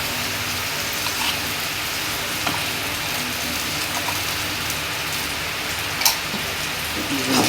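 Ginger garlic paste sizzles in a hot pan for Tamil stuffed chicken lappa, a steady broadband hiss running throughout with a few brief stirring clicks near the end.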